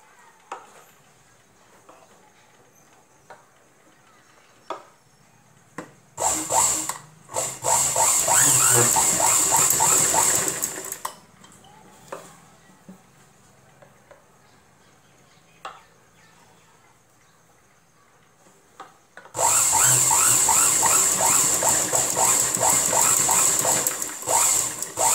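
A sewing machine stitching a lined blouse runs in two loud bursts of rapid, steady stitching, separated by quiet handling noises and faint clicks.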